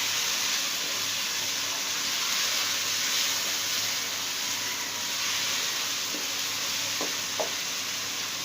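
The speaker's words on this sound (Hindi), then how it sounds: "विनीगर, हरी मिर्चें डालेंगे। सब चीज़ों को भूनेंगे।" Mutton korma sizzles and fries in a pan with vinegar and green chilies added, a steady hissing sizzle at moderate volume, with a few faint utensil knocks near the end.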